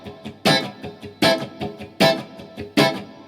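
Four bright, percussive strummed guitar chords land evenly about a beat apart, each cut short and muted, with faint scratchy strums between them.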